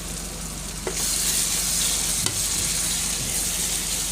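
A village-style sambar base with asafoetida sizzles in a hot pan, a loud, even frying hiss that swells after a brief tap near the start, with one sharp scrape of the stirring spoon midway.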